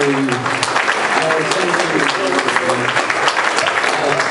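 Loud, continuous applause fills a room at a dinner dance as the crowd claps for a friend, dense and close, with voices faintly mixed underneath.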